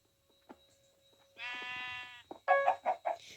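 Several sheep bleats from a video game in a row, the first a drawn-out cry and the next a choppy, wavering burst, standing alone over near-silence.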